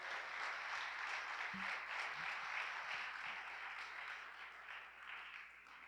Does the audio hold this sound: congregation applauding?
yes